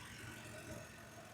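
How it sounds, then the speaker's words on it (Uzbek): A car engine idles steadily, a low continuous rumble with a constant hum, faint and fairly even throughout, with no voices over it. "Motor tiniq ishlab turibdi"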